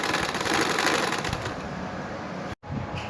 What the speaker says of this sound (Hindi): इसको इस तरह से करके यहीं से ही मैं दूसरी सिलाई लगाना शुरू करती हूँ